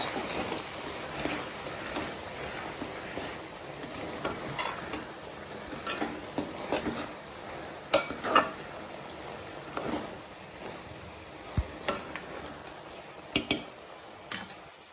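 A spoon stirs a spice mixture into avarekalu gravy in a pan, producing a soft, continuous scraping and sizzling with scattered metallic clinks against the pan, close and fairly quiet with no talk.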